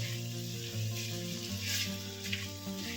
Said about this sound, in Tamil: இந்த நறுக்கி வச்ச காய்கறியும் புதினாவையும் இதோட சேர்த்து இப்போ இதை வதக்கிட்டு இருக்கேங்க